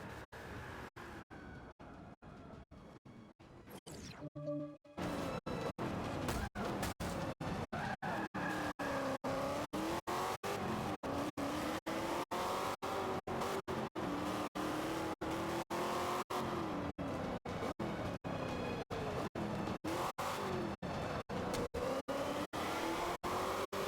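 A video game racing car drones with a steady high engine whine and occasional tire squeal, loud and continuous after a brief dip near the start, with no talking.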